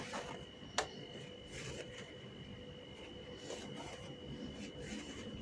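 A sewing machine gathers fabric with elastic while a butterfly-style bubu blouse is being made, giving a steady, faint mechanical whir with one sharp click near the start and no talking.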